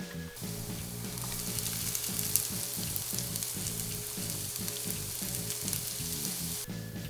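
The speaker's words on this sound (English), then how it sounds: "Add finely diced onion and garlic to the pan and cook until the onion becomes" Finely diced onion and garlic frying in vegetable oil in a pan, a bright continuous sizzle over a soft rhythmic musical pulse, steady and close with no speech.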